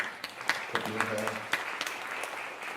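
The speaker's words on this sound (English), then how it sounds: "So give yourself a round of applause, please, for being here." An audience at a New York memorial for Keo Mailani Woolford claps steadily throughout, with a voice speaking over the applause partway through.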